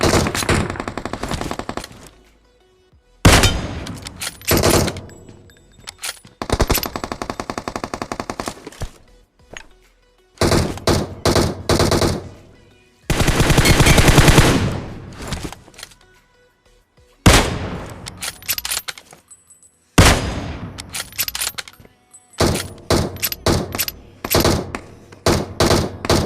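Gunfire fills a BGMI solo-versus-squad battle royale match: loud, close bursts of rapid automatic fire and single shots in repeated volleys separated by brief pauses, with no voice over the shooting.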